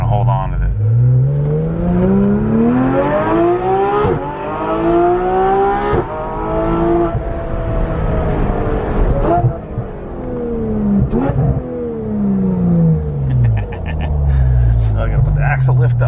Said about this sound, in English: Good old courtesy rev.